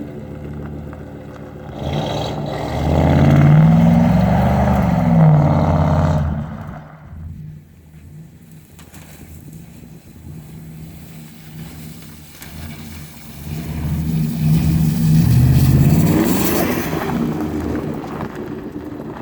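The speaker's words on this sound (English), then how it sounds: "The exhaust, new exhaust. Let's test this sound out on this thing." A Mercury Grand Marquis with a new dual exhaust revs up hard with a deep, throaty exhaust roar, drops back to a low idle, then climbs into a second loud rev.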